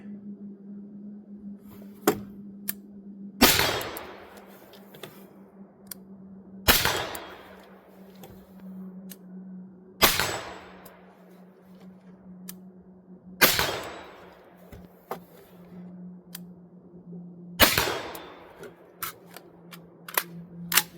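Five loud, sharp gunshots ring out at a range during positional shooting from a barricade. They are spaced a few seconds apart, each with a decaying echo, over a steady low hum and scattered small clicks, with no voices.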